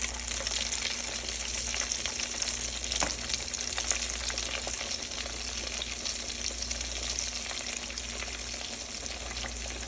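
Chicken pieces fry in very hot grease, producing a dense, continuous sizzle and crackle that stays steady and close for the whole stretch, with a faint low hum beneath and no talking.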